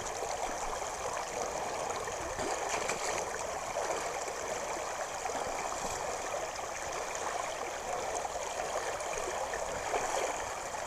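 Fast-flowing trout stream water rushing steadily around an angler wading near the top of his boots, a continuous close broadband roar with no talk.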